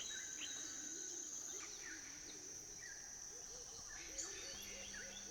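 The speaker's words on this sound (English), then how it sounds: "The backdrop sounds of Goliath's forest home is a cacophony of bird calls and alarms" In the forest home of the Goliath birdwing butterfly, repeated chirping bird calls sound over a constant high insect drone, moderately distant and faint, with a low tone entering near the end.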